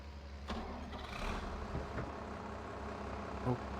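A tractor engine in the farming game Farming Simulator turns over and settles into a low, steady rumble, with faint clicks and small mechanical noises over it.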